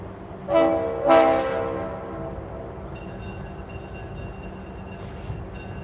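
Tennessee Valley Railroad Museum train led by locomotive 710 departs a station, its horn sounding two loud close blasts followed by a steady low rumble of the moving train.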